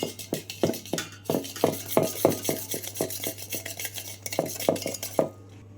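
A spoon or whisk scrapes and clinks rhythmically against a bowl while homemade cake batter flavoured with pineapple essence is mixed, a quick steady beat of close stirring strokes.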